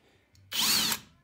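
A drill bit bites into a rivet on a T-top, a short, loud burst of drilling lasting about half a second after a faint click, close and alone.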